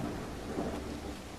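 Heavy rain with a low thunder rumble from a narrative adventure puzzle game on PS5, a dense steady wash of downpour and roll filling the short moment with no voices.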